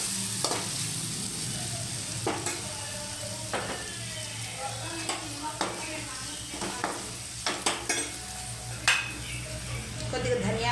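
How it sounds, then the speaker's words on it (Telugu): Ginger garlic paste frying with onions in a pan, a steady sizzle running throughout with repeated stirring scrapes and clinks of a utensil against the pan at irregular intervals. "ఇప్పుడు కొద్దిగా అల్లం వెల్లుల్లి పేస్ట్ వేస్తున్నాను. ఇది బాగా పచ్చి వాసన పోయినంత వరకు వేపుకుంటున్నా."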